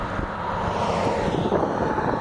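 An airplane flying overhead outdoors: a continuous, loud, broad engine roar with wind-like rush, steady throughout and close, with no talking.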